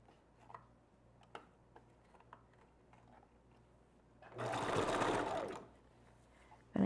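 A sewing machine back stitching during wig construction runs in one loud buzzing burst lasting about a second and a half, preceded by faint ticking handling sounds in a quiet room.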